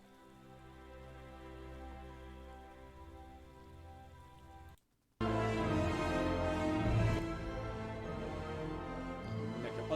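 Rain falls steadily in the video game Hogwarts Legacy, a dense patter under a tonal musical backdrop, briefly cutting out midway before returning louder and fuller.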